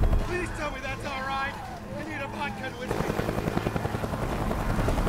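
Helicopter in the zombie game Dead Rising 4, its rotor chopping in a steady rapid pulse that grows louder midway, with people talking over it at first.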